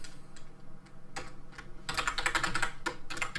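Someone types a class name on a computer keyboard, a run of quick, close key clicks that comes in bursts before a denser flurry of keystrokes. No one is talking.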